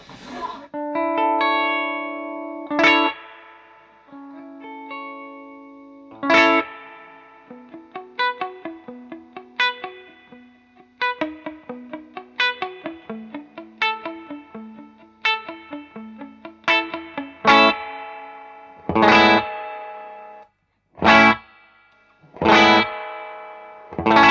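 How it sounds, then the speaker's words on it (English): Electric guitar played through a tube-driven spring reverb in an analog rig, with hiss underneath: close, loud picked notes and chords ring out in phrases, with sharp strummed hits and brief gaps toward the end. "it's a genuine spring reverb because it rattles like hell"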